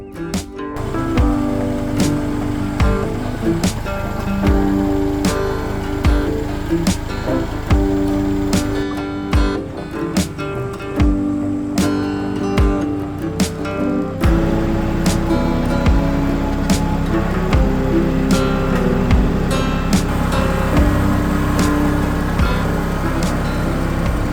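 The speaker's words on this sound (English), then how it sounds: "restart the tractor, get the forks all the way in, pick these girls up, and then very slowly and gently start bringing them up to our field" A farm tractor restarted and creeping slowly with a chick coop of young hens raised on its forks, its engine a steady, loud, close rumble throughout with knocks and rattles over the top, and no talk.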